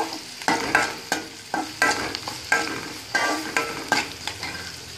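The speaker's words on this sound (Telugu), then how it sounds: "పచ్చిమిర్చి వేస్తున్నాను." Green chillies frying in oil for masala idli, with a constant loud sizzle close up and rhythmic scraping stirs about every half second throughout.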